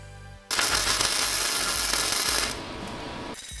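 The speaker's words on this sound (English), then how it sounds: "so I'll go ahead and weld it together" Steel brackets being welded for brakes on a 1965 Chevrolet Impala SS: a sudden loud, steady crackling buzz of the welding arc for about two seconds, then fading and cutting off, close and without talk.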